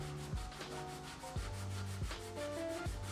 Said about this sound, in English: Make sure you clean it up and sand it down.